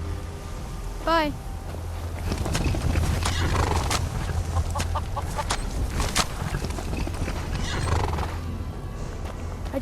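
Horses whinny and neigh in a Skyrim farm setting, one sharp neigh early then another later, with hoof clip-clop and clucking chickens around them in a busy outdoor game soundscape.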